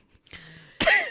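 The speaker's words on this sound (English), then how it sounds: "I can like feel liquid in my throat and I gotta cough it out." A person coughing to clear liquid from the throat: a faint catch, then one sharp, close, forceful cough.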